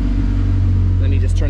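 An Acura RSX all-wheel-drive project car idles steadily nearby, a loud continuous low rumble with a slight rise toward the end as someone talks over it.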